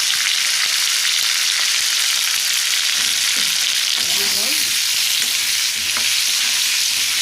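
Sliced tomatoes hit sizzling oil for a rohu fish curry with aloo, giving a loud, dense, continuous close-up sizzle with some faint stirring scrapes.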